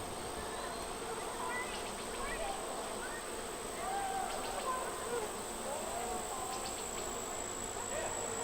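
Honey bees hum around a hive during the 2017 total solar eclipse, a steady outdoor buzz that runs the whole time under quiet background voices.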